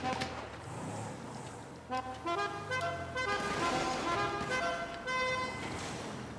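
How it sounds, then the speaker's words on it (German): Car horn in GTA 5 Online blares with a musical, multi-note honk, a melodic custom horn repeating over traffic and engine noise at moderate volume. "Die geilste Hupe, die geilste Hupe."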